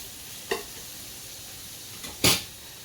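Bacon fat renders in a pan with a steady, low sizzle. Two sharper scraping stirs break through, one early and a louder one near the end.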